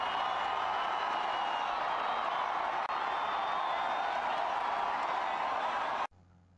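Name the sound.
crowd outside stadium awaiting announcement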